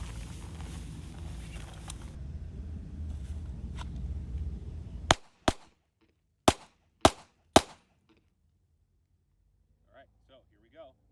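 A pistol fed from a Magpul magazine fires steel-cased ammunition, five sharp, close shots in a ragged sequence after a stretch of background noise and speech, followed by faint metallic clicks.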